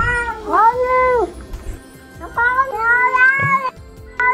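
An orange cat gives several loud, drawn-out meows and yowls up close, with brief pauses between calls.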